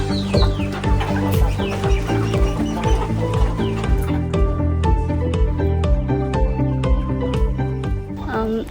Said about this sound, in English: We have 30 ducks and maybe 60 chickens.